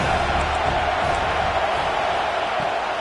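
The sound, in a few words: football stadium crowd noise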